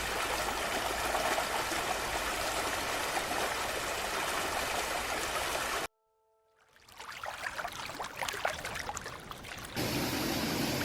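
River water flowing on an icy Alaskan river, a steady broadband rush that cuts out abruptly, then returns as a rougher, splashier flow before the smooth rush resumes.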